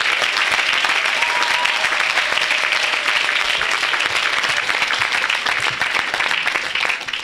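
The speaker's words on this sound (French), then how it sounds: "Acclamez." A church audience applauds at an evangelistic healing event, dense and loud continuous clapping from a large crowd sustained throughout.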